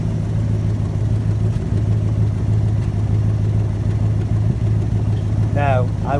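An engine runs steadily at idle, a constant low rumbling drone of exhaust close by, with a brief voice-like squeal near the end.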